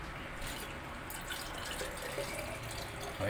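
Water pours into a container used for growing water spinach (kangkong), a soft, continuous trickle and splash at close range that swells slightly at the end, with no talking.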